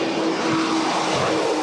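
An American Airlines airliner, retired after 24 years of service, departs on its final flight. Its engines give a steady, loud roar that holds for the whole stretch, with no voices.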